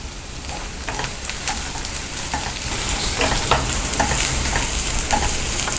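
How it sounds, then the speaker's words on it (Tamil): Onions fry in a pan for a paneer biryani with a steady sizzle. A spoon scrapes and stirs them in repeated close strokes, and no one speaks. "வெங்காயம் வதங்கிட்டுருக்கு"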